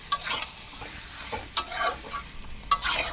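Goat meat being fried and stirred in a pan with spices, with steady sizzling broken by sharp scrapes and clinks of a utensil against the pan.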